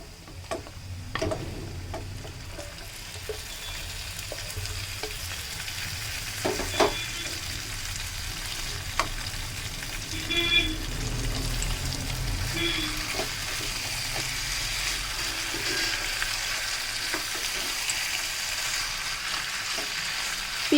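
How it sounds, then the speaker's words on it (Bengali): Marinated chicken frying with lightly browned onions in a pan for spicy Kashmiri chicken curry, with a steady close sizzle and occasional clicks and scrapes of stirring. "পেঁয়াজের সাথে চিকেনটা ভালো করে মিশিয়ে নাড়াচাড়া করে নিতে হবে খুব ভালো করে।"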